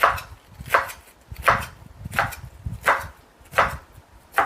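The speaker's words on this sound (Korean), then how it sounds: "1cm 조금 가늘게 그냥 채를 썰어 주시면 돼요" A knife slices lettuce into thin strips about half a centimetre to a centimetre wide: roughly seven crisp, evenly paced chops less than a second apart, close and clear, with no talking.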